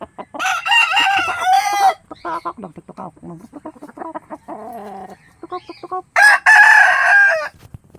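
A rooster crows loudly and close by, one long crow at the start and another near the end, with clucking in between.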